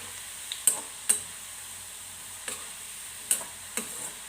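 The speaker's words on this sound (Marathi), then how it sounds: "चला मी आता हे फ्राय करून घेते" Food frying in hot oil on a home stove, a faint steady sizzle broken by half a dozen sharp, scattered pops and ticks, with no voices.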